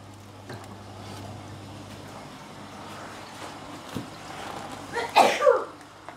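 One loud, close sneeze comes near the end, over quiet room noise with faint shuffling during the unboxing of a marine fish shipment.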